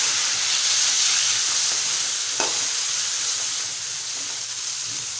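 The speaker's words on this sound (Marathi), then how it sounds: "त्यामध्ये आपण उभे चिरून घेतलेले बटाटे घालूया। परतवून घ्यायचं आपल्याला।" Vertically sliced potatoes fry with lightly browned onion in a pan, a steady close sizzle with a brief stirring scrape partway through, no voices.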